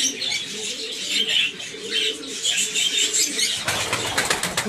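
Soft, repeated cooing of Turkish pigeons nearby, with light chirps and a burst of wing flapping or rustling toward the end.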